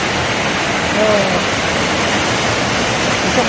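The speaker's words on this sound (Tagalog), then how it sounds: "Sobrang lakas ang ulan." Very heavy rain pours down in a steady, loud hiss with no break, a dense wash of water close by during a fiesta.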